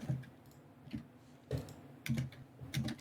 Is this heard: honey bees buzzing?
no